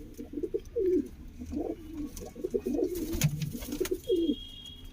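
Pigeons in a loft cooing repeatedly, several soft, low, rolling calls overlapping close by, with light rustling and scattered clicks between them.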